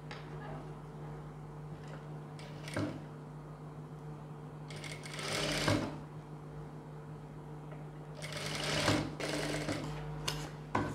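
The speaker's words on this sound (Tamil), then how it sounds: "இப்போ இதை நம்ம ஃபோல்ட் பண்ணி ஸ்டிச் பண்ணிடலாம்." A sewing machine stitches a folded boat neck in short bursts of rapid mechanical clatter separated by quiet pauses and small handling knocks, close up over a low steady hum.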